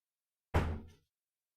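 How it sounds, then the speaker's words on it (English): A door swings shut with a single solid thunk, close and fairly loud, fading quickly into silence in a room where a live stream is underway. "I should close that door."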